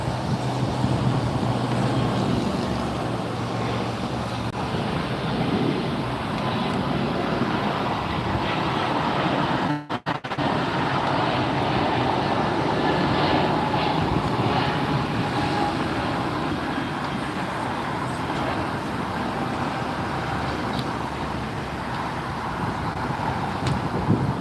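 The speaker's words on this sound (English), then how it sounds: "Breeze Airways departing for Raleigh-Durham." Breeze Airways jet departing Los Angeles International Airport for Raleigh-Durham, a steady broadband engine roar that holds at a constant level throughout, heard from a distance with a brief dropout midway.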